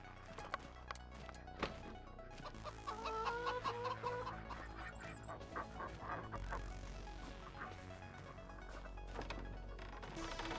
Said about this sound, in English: We have our chicken and ducks.